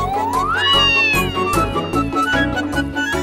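A cat meows loudly and close, one long rising, drawn-out wail followed by shorter cries over a thumping musical background.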